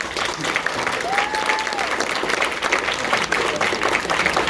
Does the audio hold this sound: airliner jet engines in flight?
no